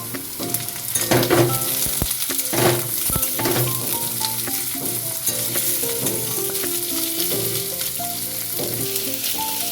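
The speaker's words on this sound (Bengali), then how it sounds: "আলুটা লাল করে ভেজে নিচ্ছি।" Small diced potatoes frying in oil with cumin seeds, a loud continuous crackle and sizzle broken by scraping stirs and clanks of a spoon against the pan, no voices.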